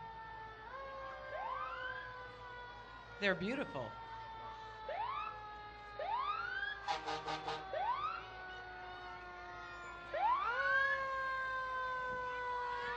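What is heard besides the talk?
fire truck siren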